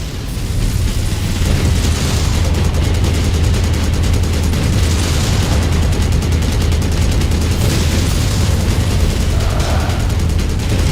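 Mech weapons fire and explosions in the video game MechWarrior 5: Mercenaries, a loud, dense barrage of rapid repeating shots over rumbling booms, continuous throughout.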